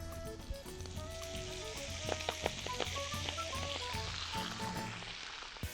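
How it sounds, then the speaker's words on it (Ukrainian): Steady oily sizzling of greens frying in a pan, with occasional clinks and stirring sounds, close and continuous throughout. "Відправляємо цей щавель на сковорідку."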